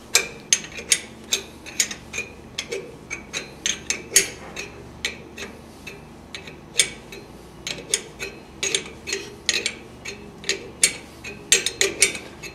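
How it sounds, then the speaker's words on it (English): Nuts are tightened with a 19 millimeter metric wrench, giving a long run of sharp metallic clicks and ratcheting ticks in an irregular rhythm, close and fairly loud, with no talking. "thoroughly tighten these nuts back into position using that"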